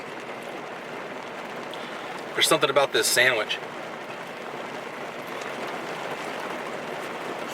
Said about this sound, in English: I'm sure you guys can hear the rain